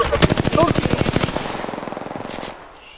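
Gunfire in the Apex Legends video game: a rapid, loud burst of automatic fire with evenly spaced shots. It lasts about two and a half seconds, then cuts off into quieter game ambience.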